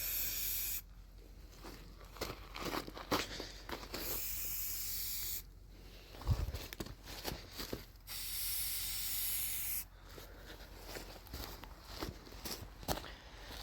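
Spray paint hissing onto wet metal of a crushed tree stand under restoration, several long bursts of spraying from close by with short pauses and shuffling between them.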